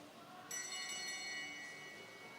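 A last-lap bell rings at a velodrome during a track league race, its bright sustained tone starting abruptly and ringing steadily over the low rumble of the crowd and the track.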